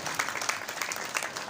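Audience applause at a school prize distribution, a brief quiet spell of many hands clapping for the parents of the top student, steady and somewhat distant.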